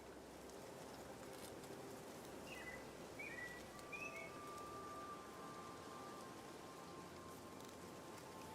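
Steady rain in the video game Infinity Nikki, a soft continuous hiss of drops on surfaces with a few faint bird calls and tones over it, no talking.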